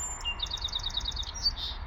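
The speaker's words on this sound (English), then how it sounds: "Oh, don't you just love the birds in the spring?" Birds chirp and sing in a garden in early spring, a rapid string of high tweets repeating through the moment, moderately near over a soft background hum.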